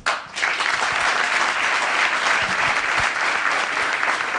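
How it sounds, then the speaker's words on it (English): Studio audience applause on a Zimbabwean radio show, a full burst of clapping that rises quickly and holds steady for several seconds, dense and close, with no talk over it. "Come on, a round of applause."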